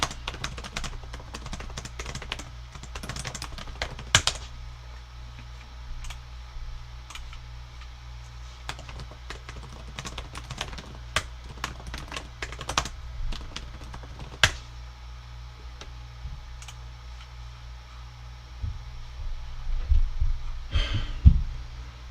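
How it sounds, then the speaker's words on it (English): Keys on a computer keyboard clatter in scattered bursts of quick taps with pauses between, close and fairly quiet over a low steady hum. "Hold on, I'll type something."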